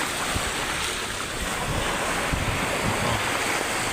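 Rough sea waves pounding a beach after a typhoon, a continuous loud roar of surf with heavy wind buffeting the microphone.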